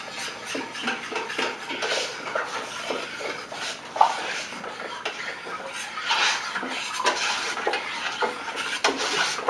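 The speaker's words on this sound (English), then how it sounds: "we're going to mix it and stir it" A spoon stirs a powdered-milk yogurt mixture in a container, making continuous close scraping and swishing with soft knocks against the sides and one sharper clink, and no one speaks.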